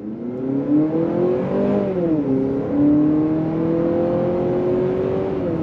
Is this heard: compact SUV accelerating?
yes